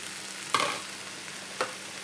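Macaroni with tomatoes is stirred in a pan under a low, steady sizzle, with two distinct scraping strokes about a second apart.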